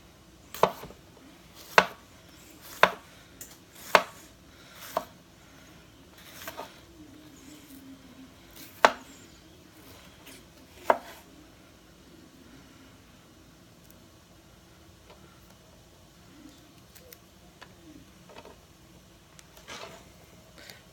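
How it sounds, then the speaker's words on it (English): A knife chops a pepper on a board with about eight sharp, spaced knocks early on, then only faint scattered taps over a quiet room hum. "I'm going to chop up our pepper."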